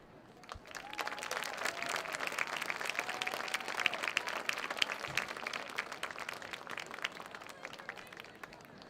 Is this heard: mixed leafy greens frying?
no